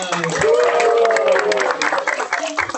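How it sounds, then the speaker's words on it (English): Applause from an audience at a school Black History Month event, moderate clapping from a group mixed with a sustained sung or tonal voice and some chatter, thinning out toward the end. "give him a round of applause"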